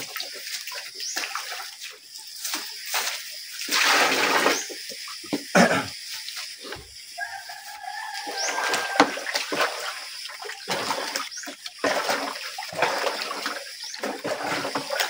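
Water splashes and trickles steadily, like liquid being poured into a container, with scattered clatter and movement close by.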